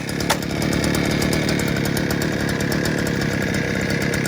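Small engine cold-started and running, a loud, steady mid-pitched drone with a rapid buzzing pulse that holds evenly after a brief catch at the start.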